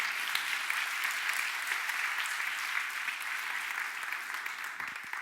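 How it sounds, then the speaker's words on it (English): An audience at a retail-themed talk breaks into steady, dense applause that carries on evenly from start to finish, moderately loud and without any talk over it. "Give her a round of applause, please."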